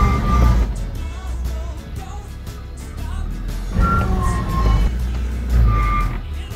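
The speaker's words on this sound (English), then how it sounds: "A rather unpleasant noise, originating from the right front wheel." An off-road Land Cruiser rolls along with a rough, unpleasant noise from its right front wheel, rising and falling over a low engine rumble with a few faint squeaks.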